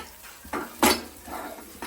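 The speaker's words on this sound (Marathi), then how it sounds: "तर आता कढई ट्रान्सफर करू आपण" Metallic clanks and scrapes of a heavy kadhai being handled after chicken gravy, with one sharp loud knock and several softer bumps close by.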